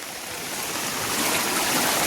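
Floodwater from a swollen river rushes across fields and brimming ditches in a dense, steady roar, broad and loud, swelling slightly toward the end with no voices.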